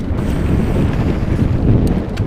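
Steady wind roar buffets a mountain bike rider on singletrack during a race at Hailes Trails in Gainesville, Florida, filling the whole stretch with dense, continuous rushing noise and no voices.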